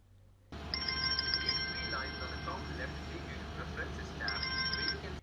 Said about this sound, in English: It starts to ring even if it is on mute.